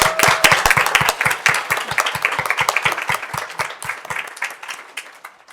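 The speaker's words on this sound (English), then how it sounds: "One more round of applause." Audience applause after a high school student's music performance at a school board regular session, starting loud with sharp individual claps and gradually thinning and fading out toward the end.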